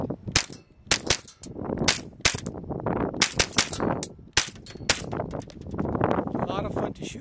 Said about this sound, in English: Again, the rifle is a lot of fun to shoot.